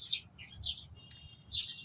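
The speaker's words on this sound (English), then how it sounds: "I can enjoy free singing of the birds" Small birds chirp and tweet in short bright bursts, three or four calls close by, with a quiet outdoor hush underneath at a peaceful beach.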